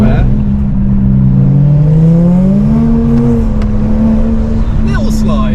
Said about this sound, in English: So we get to hear the Yaris from behind. Very raspy.